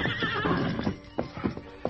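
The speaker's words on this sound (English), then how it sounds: "The Lone Ranger grasped the bridle and turned the horse's head" Horse neighing and clip-clopping hooves as a radio drama sound effect: a whinny at the start gives way to irregular hoofbeats thudding over a busy background, with no talk.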